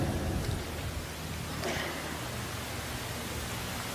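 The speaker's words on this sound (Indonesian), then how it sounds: "yang telah menurunkan hujan buat kita" Rain falling as a steady, moderate hiss of drops with a faint low rumble underneath, continuous throughout and with no talking.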